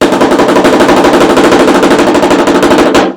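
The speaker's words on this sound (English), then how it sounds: "I'm going to give you another example of the slow, fast, slow for single stroke roll" Rapid, even snare strokes rattle continuously at high volume, forming a dense single-stroke roll that stops abruptly near the end.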